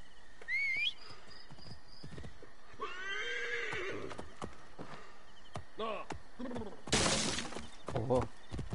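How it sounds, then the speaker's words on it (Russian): A horse whinnies and neighs in Assassin's Creed Origins near the pyramids, with hoof clops, whistling tones and a loud crashing shatter of game effects mixed over steady background ambience. "Лошадка."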